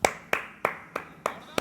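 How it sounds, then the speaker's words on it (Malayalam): A football commentator clapping his hands six times in a steady, evenly spaced rhythm, close and crisp with no talk. "എൻ്റെ വക കൈയടി ഞാൻ കൊടുക്കുന്നതാണ്."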